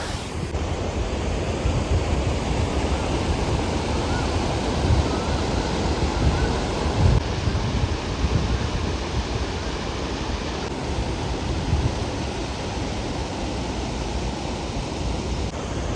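Steady rushing water of a river roars continuously, a dense broadband flow like a fast stream, with no voices.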